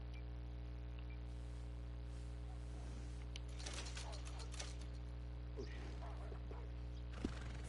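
A horse in a western video game whinnies and shifts its hooves amid creaking tack, short snorts and clops scattered over a constant electrical hum, with a faint voice in the background.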